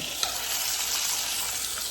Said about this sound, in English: that chicken is sizzling